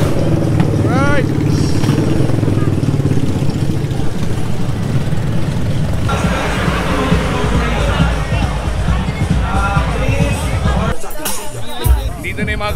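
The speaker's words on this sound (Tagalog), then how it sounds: "Dito na yung mga grupo ng Thunderbugs, yung mga naka-Goldwing, puro Goldwing yan." Crowd of motorcycles including Harleys and Honda Goldwings at a festival ride in Bacolod, engines idling and rumbling steadily close by under continuous crowd chatter and voices.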